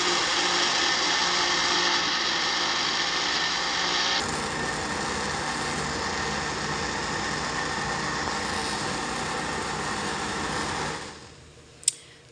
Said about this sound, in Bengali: এই তো ব্লেন্ডারে দিয়ে দিচ্ছি